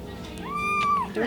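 Young kitten giving a single short, rising and falling cry-like call, fairly close, with a person speaking quietly around it.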